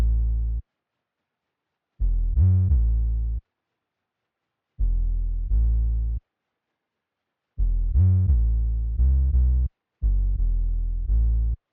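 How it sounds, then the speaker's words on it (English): Synth bass line from an R&B sample, played alone as loud, deep sustained notes in short phrases separated by silent gaps, with a bouncy rhythm of repeated plucked hits. "I'll play what the bass sounds like."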